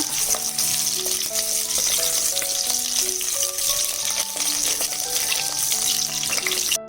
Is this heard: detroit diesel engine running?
no